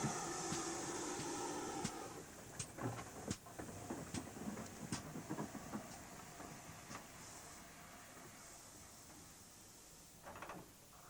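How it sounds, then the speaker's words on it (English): Steam train on the South Devon Railway along the River Dart, a steady hissing rush with a series of sharp clanks and knocks from the carriages, fairly faint and distant, fading slightly toward the end. "So, by steam train up the River Dart to Buckfast."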